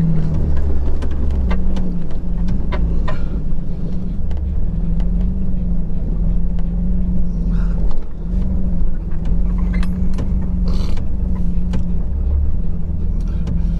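A car with a manual clutch rolling backward on a rough Santa Cruz spring track, a low continuous rumble with engine drone and scattered crunches from the tyres on gravel.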